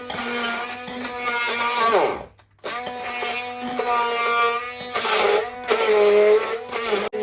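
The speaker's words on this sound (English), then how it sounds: "I'm going to use half of the Maggie to add it to my blended ingredients. So I'm going to blend this" Loud continuous whir of a kitchen blender processing Maggi seasoning with other ingredients for Ghana party flour chips, running steadily, briefly cutting out for a moment, then resuming at full power.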